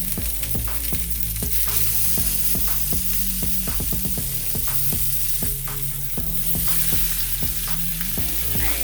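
Pork tenderloin browns in a pan with garlic, giving a loud, constant sizzle with rapid crackling and frequent utensil scrapes and knocks, close up and without speech.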